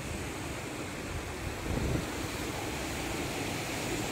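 Waves washing onto the beach at Matang Bungong in Aceh, a steady low surf rush that holds constant throughout with a brief swell near the middle, mixed with wind noise and no voices.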